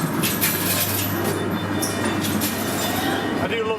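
Ghost train ride at Blackpool Pleasure Beach passing through a London Underground scene, with a steady rumble of rail car wheels and dark-ride effects continuing throughout, close and fairly loud, with a brief higher squeal near the end.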